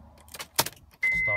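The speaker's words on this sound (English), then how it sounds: "Now we can start the car. The car is running." A 2005 Honda CR-V is started with a key: a few clicks and key jangles, then the engine catches and settles into a steady close idle.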